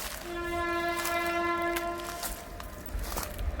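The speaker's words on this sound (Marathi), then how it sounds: "ट्रेन आलेली आहे ट्रेन काही ट्रेन जिता स्टेशन आहे" A train near Jite station on the Goa line sounds a long, steady horn blast, then rumbles past with faint rattling, no voices present.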